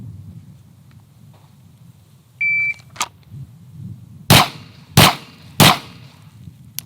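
A shot timer beeps, followed by three sharp, loud pistol shots spaced about half a second apart, over a low background rumble.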